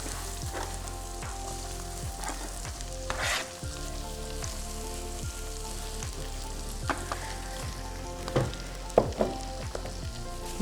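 Onions for chili paneer frying in hot oil with crackled cumin, a continuous close sizzle with occasional spatula scrapes and small pops, no talk.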